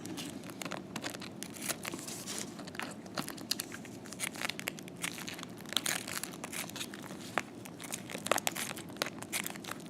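Scissors snipping excess material from a dental whitening tray, a dense run of small crunching, crinkling cuts at close range, quiet and continuous with no talk.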